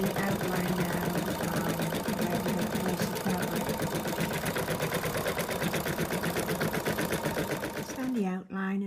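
An embroidery machine stitches an outline on fabric in a fast, steady mechanical chatter, close and loud, running continuously before stopping near the end, when a voice speaks briefly.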